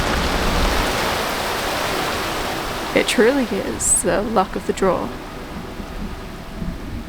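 Thunderstorm with steady rain far out at sea during a Pacific crossing on a sailboat, a broad continuous wash of rain and rumbling noise throughout, with a voice talking over the middle part.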